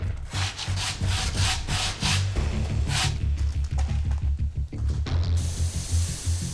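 Rhythmic back-and-forth rubbing of sandpaper on a lacquered paulownia wood jar, close and steady, strokes repeating in quick succession with no talking.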